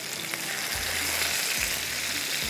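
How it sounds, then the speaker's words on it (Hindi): Fish frying in hot oil for a desi spicy rice dish gives a loud, steady sizzle, with low, rumbling bursts of bubbling that recur every second or so. "मछली को ही मुझे अच्छे से फ्राई करना है ताकि ये कच्ची ना रहे"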